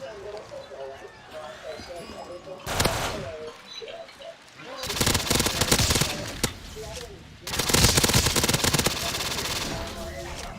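A UMP submachine gun, upgraded with Pack-a-Punch, fires in a Black Ops 3 custom zombies game running a Modern Warfare zombies mod. It comes as three loud, rattling automatic bursts, the last two long and sustained, with someone talking in between.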